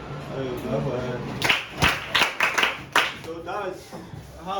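A small group, likely a class, claps briefly in scattered bursts of applause, mixed with voices talking over and around the claps.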